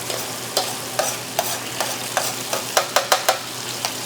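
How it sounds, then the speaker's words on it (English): Vegetables sizzle in a paella pan while a utensil scrapes and pushes them aside in a series of sharp strokes over a steady frying hiss, with no talking. "we're going to move the vegetables over to one side"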